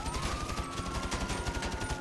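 Suppressed AK rifle firing in GTA 5, a rapid rhythmic burst of muffled shots about eight per second, steady and close, lasting two seconds.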